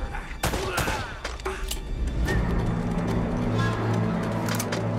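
Rapid gunfire and heavy shotgun blasts from the video game Uncharted: Drake's Fortune, loud bursts crowding together over a steady low rumble of game ambience.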